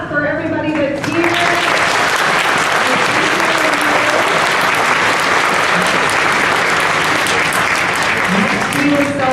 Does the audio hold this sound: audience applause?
yes